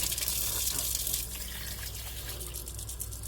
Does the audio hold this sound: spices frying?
no